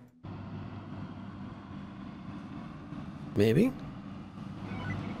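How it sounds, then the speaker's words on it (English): Ferry boat engine idling in a video game, a low steady hum with faint tonal drone, briefly interrupted by a short spoken word over it. "Listen to her engine purr."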